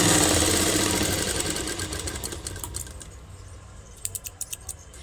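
A sewing machine runs steadily while stitching the folded half-inch edge of a salwar waist belt, a continuous close whirring hum that slows and fades, ending in a few quick separate clicks and taps.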